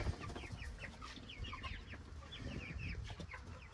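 Ducks and drakes around a newly built duck pond give repeated quick clucking and quacking calls in short bursts, moderately close over soft outdoor background noise.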